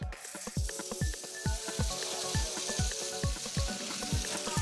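Sea bass searing in hot olive oil in a restaurant kitchen pan, a steady crackling sizzle with repeated sharp knocks and clatters of utensils over it throughout.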